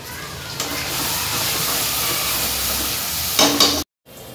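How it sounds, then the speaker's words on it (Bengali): Hilsa fish spice paste fries loudly in hot oil, a dense steady sizzle that surges as the paste goes in near the end, then cuts off abruptly before resuming. "এবার মশলাটা আমি তেলে দিয়ে দেবো।"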